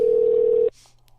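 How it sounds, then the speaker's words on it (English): A steady telephone dial tone hums loud and constant for under a second while a guest is being called, then cuts off abruptly into faint line hiss and a low hum. "hopefully we get him on the phone here"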